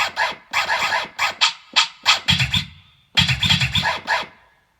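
Rapid, gritty record-scratch bursts from a Casio MZ-X300 keyboard's General MIDI percussion set repeat in quick back-and-forth strokes, pausing briefly before another flurry, loud and synthetic-sounding.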